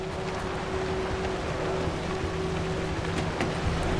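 Steady rain in the video game Pacific Drive, a dense continuous hiss of drops on surfaces with a low hum beneath, constant and moderately loud throughout with no talk.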